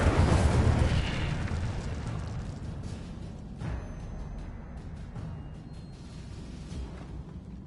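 A fiery Incendio spell is cast in Hogwarts Legacy on PS5, giving a loud whooshing burst up front that fades into a sustained rumble with a few smaller pops along the way.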